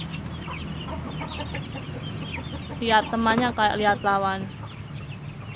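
Bangkok fighting chickens cluck and call, with a louder burst of harmonic squawks in the middle, while a person talks over them.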